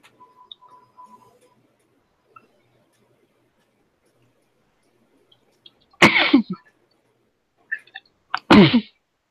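Two sharp sneezes close to the microphone, a few seconds apart, after near silence with faint ticking.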